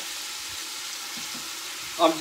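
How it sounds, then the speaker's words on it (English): Chicken thighs frying in a pot for a simple chicken stew give a steady, close sizzle throughout, with a brief louder clatter near the end as the pieces are flipped. "I'm just flipping the chicken over."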